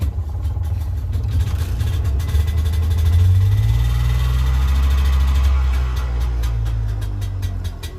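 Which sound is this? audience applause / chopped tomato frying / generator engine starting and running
generator engine starting and running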